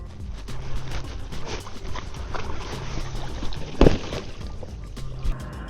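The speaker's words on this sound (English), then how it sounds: "So let's go kayaking." Kayak paddling on open water, with rhythmic, close paddle splashes and drips against a steady background of rushing water and wind, plus a soft knock near the middle, with no talk.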